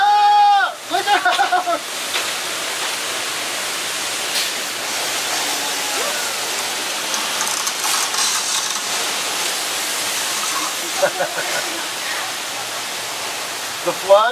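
Released tank water floods down a hill in a theme park flood effect, a broad steady roaring rush that holds for the whole stretch, with brief crowd voices and screams at the start and near the end.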